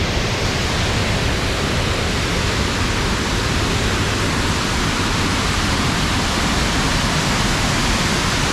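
Water pours out of the Kelavarapalli dam near Hosur, making a steady, loud, broadband rushing roar that holds constant throughout, with no speech over it.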